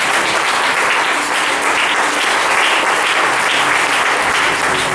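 A church congregation applauds loudly in acclamation of Jesus, a thick, continuous roar of clapping hands that holds at full strength from start to finish without any clear speech.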